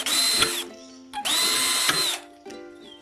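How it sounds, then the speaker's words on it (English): A power drill whines up to speed in two long bursts with a short blip between, drilling holes in a metal profile, its motor pitch steady, ending with a brief third start. "drill 2 holes in it at the edges"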